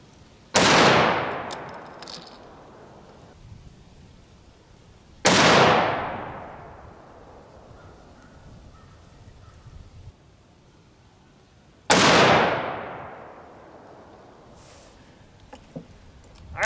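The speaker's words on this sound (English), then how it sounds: "And then we will reconfirm with the 4064 load and make sure it's still shooting decently." Three loud rifle shots from a Ruger M77 chambered in .243 firing a 4064 powder load, each a sharp crack with a long decaying echo, spaced several seconds apart outdoors.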